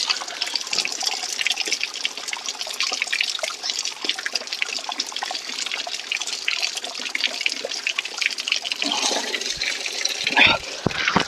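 Spring water pours steadily from a mountain cave, a dense, continuous rushing splash close by that carries on unbroken, with a few brief knocks near the end.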